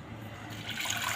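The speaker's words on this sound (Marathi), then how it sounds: "लागेल तेवढं पाणी घालते" Water poured onto washed toor dal in a pot, a brief continuous splashing pour that grows slightly louder and brighter, close and alone.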